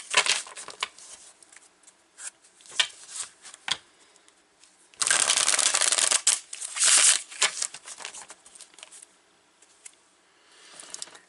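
Tarot cards shuffled by hand in quick riffling bursts, with a longer continuous dense shuffle in the middle and scattered light card taps and slaps around it, close and fairly quiet, with no talking.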